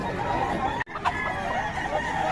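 Chickens and roosters at a farm in Bocaue cluck continuously, with a rooster crowing through the busy flock noise. The sound is near and steady, with a brief dropout partway.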